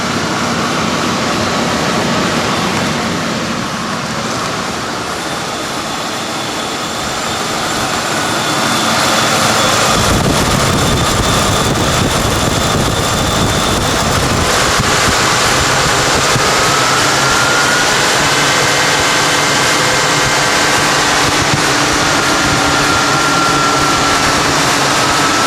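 A 1995 Ford Crown Victoria engine runs cold at a steady idle, a continuous loud drone with a faint whine, heard alone for a long stretch without any revving.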